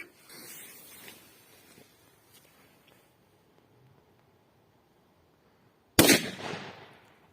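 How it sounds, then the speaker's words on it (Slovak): A Killer firecracker explodes with one loud, sharp bang after a stretch of near silence and faint rustling, the blast fading away over roughly a second. "Ďalej petarda Killer."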